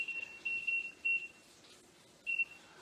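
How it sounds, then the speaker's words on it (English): Short, high electronic beeps from a kitchen oven timer, sounding in quick bursts of several tones with pauses between, fairly faint and close against a quiet room. "And I'll set the timer."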